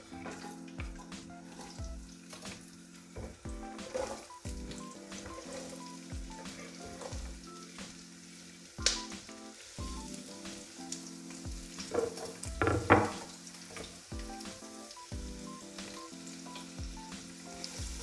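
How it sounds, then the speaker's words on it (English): Diced Indian onions sizzle in a pan while cooking for spaghetti Bolognese, a steady crackling fry with stirring clatter and scrapes, a few sharper bursts of utensil noise, and a low tonal hum running underneath. "Now I'm going to add my onions into this."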